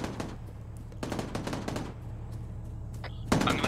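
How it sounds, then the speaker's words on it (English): Mounted weapon fire in a military combat game, coming as rapid bursts of machine-gun shots in several close, loud volleys separated by short gaps, with a sharp, heavier blast near the end. "I'm taking out a mounted weapon, hold on."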